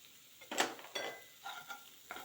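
Green chillies fry in a pan with soft sizzling and a few light stirring scrapes and clinks, quiet and close, coming in short bursts.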